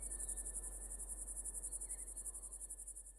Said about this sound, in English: the subtle hum of cicadas waking before the heat becomes oppressive.